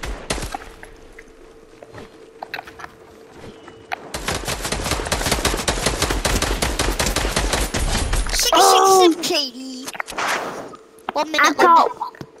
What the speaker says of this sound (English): Can I shoot ya?